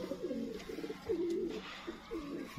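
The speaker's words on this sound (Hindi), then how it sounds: "बटेरा कबूतर है" A Sialkoti batera pigeon coos nearby in soft, rolling, repeated phrases over quiet background noise.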